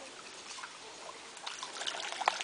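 Shallow water trickles over stones at a stream crossing, a faint, steady babble that grows slightly brighter toward the end, with no talk.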